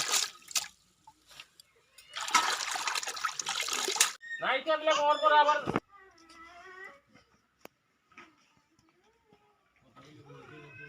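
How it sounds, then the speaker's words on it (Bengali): Washed mixed leafy greens are lifted out of a bowl of water with a brief splashing rush, followed by scattered drips and trickles, and a voice sounds faintly in between. "শাকগুলা ধোয়া হয়ে গেছে, এবার জলের থেকে তুলে নিচ্ছে।"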